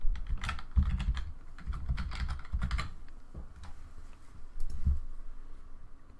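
Someone types a folder name on a computer keyboard in a few quick bursts of close key clicks with short pauses between them, and no voices.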